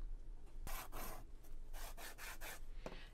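Colored pencil strokes over a clear gesso surface give faint, close scratchy rubbing in several short bursts of back-and-forth shading, quiet and alone.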